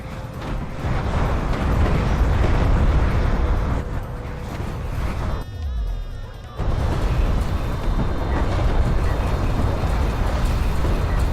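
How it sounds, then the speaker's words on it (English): Siege cruisers bombarding in a strategy video game, a dense continuous rumble of overlapping explosions and booms, loud throughout with a short dip in the middle. "These siege cruisers gonna bombard over here."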